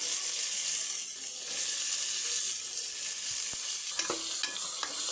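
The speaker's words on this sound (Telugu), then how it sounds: "ఈ ఉల్లిపాయ పచ్చిమిరపకాయ ఫ్రై అయ్యేదాకా, అంటే లైట్ గోల్డెన్ కలర్ వచ్చే వరకు వేపుకుందాము." Onion and green chilli pieces fry in hot oil with a continuous loud sizzle up close, a few clicks of a spoon against the pan breaking through near the end.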